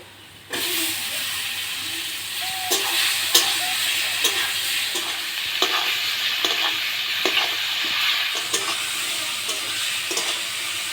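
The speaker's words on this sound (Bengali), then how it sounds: "পেঁয়াজটা আমার লাল লাল করে ভাজা হয়ে গেছে এখন মাছটা দিয়ে দেব" Kuche fish (eel) dropped into reddish-fried onions, a sudden loud sizzle bursting in after a quiet start, then steady frying with repeated sharp scraping stirs and hissing steam, close up.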